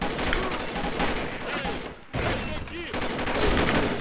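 Gunfire in the Combat Arms video game comes in rapid bursts and volleys, with a short pause midway before the shooting resumes, and a faint voice underneath.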